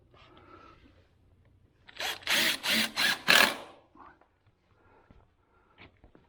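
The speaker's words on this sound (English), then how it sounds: "Just roughly sand his edges. In case they start splintering." Wooden edges of a raised garden bed being sanded, four or five loud rasping passes in quick succession after a quiet start, followed by faint handling noises.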